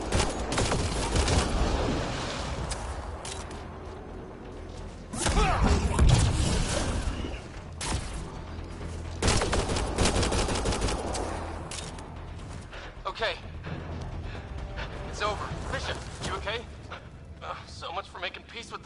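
Gunfire in Mass Effect Andromeda during a combat encounter comes as bursts of shots and thuds against a busy battle background, with people talking throughout.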